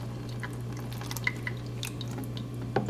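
Whey drips from homemade queso fresco curds as they are strained, a few small, soft, irregular drops landing over a steady low background hum.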